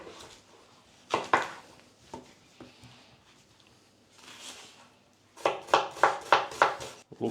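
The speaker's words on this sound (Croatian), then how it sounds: "Isjeću i ovaj luk." A knife chops onion on a board for a meatless oyster mushroom goulash: a couple of close knocks early, a few faint taps, then a quick, steady run of about six sharp chops near the end.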